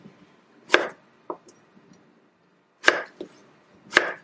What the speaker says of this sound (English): The fatter they are, the thinner I cut them, so they don't take forever to fry